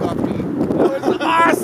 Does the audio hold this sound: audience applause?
no